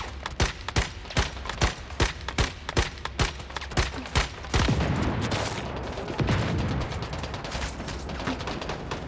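Gunfire in the survival shooter Once Human: a run of sharp, evenly spaced loud shots, then denser continuous rattling bursts, with no talk over it.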